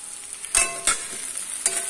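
Raw banana slices frying in an aluminium pan, a constant close sizzle broken by a few sharp scraping stirs.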